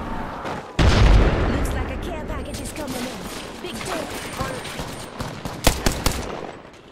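Rampage light machine gun firing in Apex Legends, a heavy burst of rapid shots starting around the first second and rolling on in a dense stream, with loud sharp cracks near the end and someone talking over it.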